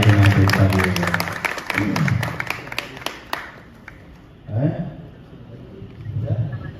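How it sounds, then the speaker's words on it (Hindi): A crowd claps for a film producer at a song promotion event in Lucknow. Scattered claps sound over a man's speech, thin out after a few seconds, and the talk continues. "मैं चाहूंगा मेरे भाई के नाम पे ताली हो जाए"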